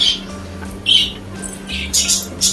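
Sharp bird squawks and chirps break out in short bursts, several birds calling over a steady low hum, with faint voices in the background, at a small zoo and animal park in Ajman, UAE.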